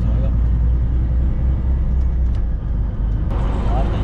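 A truck towing a trailer fitted with a WABCO EBS electronic braking system accelerates to about 60, producing a loud, steady low engine drone and road rumble heard from inside the cab.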